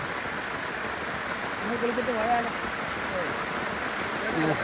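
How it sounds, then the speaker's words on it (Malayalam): Heavy monsoon rain in Kerala pattering steadily, heard from under an umbrella, with a person talking over the constant downpour. "ഓ ഹെവി മഴയാണ് ഹെവി മഴ"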